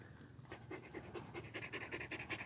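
A dog pants hard after running, quick rhythmic breaths repeating steadily and close by, growing a little stronger toward the end with no talking.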